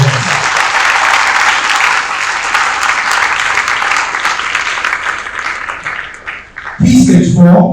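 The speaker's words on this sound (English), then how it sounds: "A round of applause for yourselves." An assembly hall full of school students applauds loudly and steadily for several seconds, the clapping thinning briefly before a fresh burst of cheering voices rises at the end.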